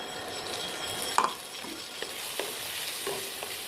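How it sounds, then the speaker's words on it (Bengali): Ground spice paste fries in a wok with onion, a quiet steady sizzle broken by several sharp scrapes and clicks of a spatula stirring the mixture, with no voices. "মশলাটা দিয়ে খুব ভালো করে এবার কষিয়ে নিতে।"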